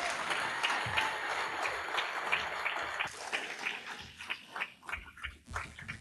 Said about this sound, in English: He deserves a round of applause as our number 8 moment